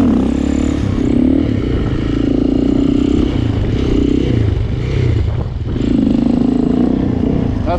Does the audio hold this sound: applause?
no